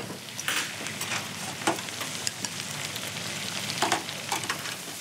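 Beef intestines (makchang) stir-fried in a pan, a continuous close sizzle broken by sharp crackles and scraping stirs at irregular moments.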